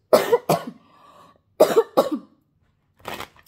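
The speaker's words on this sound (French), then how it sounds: "Je tousse." Coughing in two quick pairs of coughs, close and fairly loud, followed by a softer cough or throat sound after a short pause.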